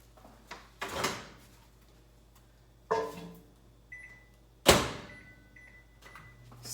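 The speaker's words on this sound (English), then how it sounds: "I'm gonna pop it in the microwave a couple seconds because I like it to be liquid" Clunks and thumps from a microwave oven being opened and closed, with a short beep, close by in a quiet room; no voices.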